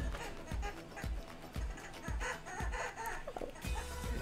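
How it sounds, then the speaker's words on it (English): A chicken clucks in a steady repeated rhythm, about twice a second, close by, with brief voices and other background noise. "The way that chicken is making that sound is funny."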